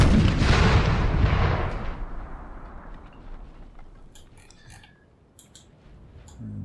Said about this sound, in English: we've got some shrapnel rounds going up there